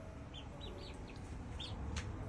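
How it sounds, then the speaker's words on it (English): Chickens and chicks around a backyard hoop-house coop give soft, scattered clucks and short chirps over a steady low hum, moderately close but not loud. "the chicks and the chickens like to roost on their thing"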